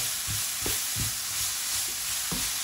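Leeks sautéing in a pan, with a steady sizzle of frying and a series of soft scraping stirs from a utensil at regular intervals, close up and with no voices.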